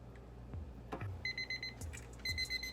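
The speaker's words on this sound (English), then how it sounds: "timer for the broccoli just went off" Kitchen timer for steamed broccoli going off, short bursts of high electronic beeping in two groups against faint kitchen background noise and a few soft knocks.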